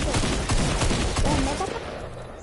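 Rapid bursts of gunfire in the video game Fortnite, loud and dense throughout with brief overlapping shots, fading slightly toward the end.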